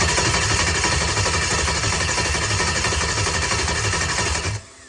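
Chevy 283 small block engine cranked over by its starter, a loud, steady rhythmic churning that runs for about four and a half seconds before cutting off abruptly.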